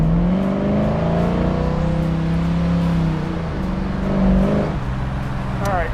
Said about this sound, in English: let her rip a little bit here. Start off in first gear